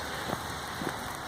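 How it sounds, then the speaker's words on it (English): Steady rain falls on a taxi during a wet November day, a broad soft hiss with a couple of faint drop taps, no talking. "It's raining."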